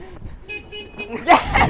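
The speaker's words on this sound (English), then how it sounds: "Why are people honking?" Car horns honk in short bursts from passing traffic, a few quick toots followed by a louder blast, heard beneath excited shouting voices.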